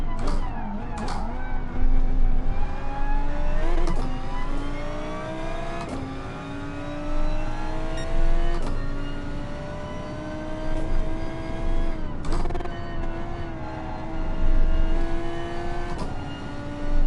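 A Gr.3 race car engine in GT Sport on the Dragon Trail circuit, loud and close, repeatedly revving up through the gears with sharp shift breaks every couple of seconds.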